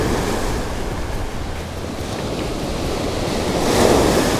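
Strong wind buffeting the microphone over steady crashing surf on a shore where someone is fishing, a continuous loud roar that swells slightly toward the end.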